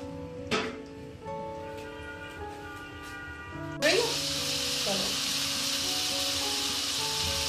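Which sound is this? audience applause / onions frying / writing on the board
onions frying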